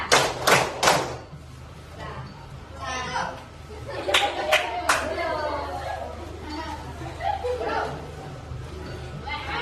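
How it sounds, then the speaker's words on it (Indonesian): Children in a classroom clap in a counted rhythm, sharp loud claps opening the moment, followed by chatter and a voice talking over a low background hum. "Tepuk satu, tepuk dua, tepuk tiga."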